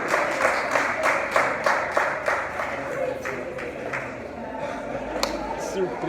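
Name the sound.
congregation applauding in church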